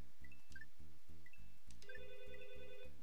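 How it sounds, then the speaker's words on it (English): An electronic phone ringtone chirps in short tonal bursts with a rising sustained ring near the end, heard over a loud, steady rhythmic background of Super Mario Bros. 3 game music. "It's my phone's ringing."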